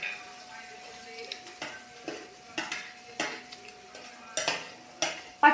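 Onion, ginger, garlic and green chilli being stirred in a pan for fish cutlets, with a steady soft sizzle broken by repeated scraping and clinking of a spoon against the pan, close up.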